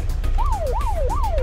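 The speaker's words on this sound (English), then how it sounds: "just follow the ambulance" Wailing ambulance siren from the video game Unturned, its pitch rising and falling in three repeated sweeps over a steady low vehicle engine rumble, loud and close.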